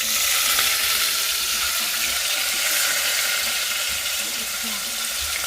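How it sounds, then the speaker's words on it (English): Onions frying in a pan for a spicy aloo baingan, a loud, steady hiss and sizzle running unbroken and close throughout. "Now get the onions and put just the onions in."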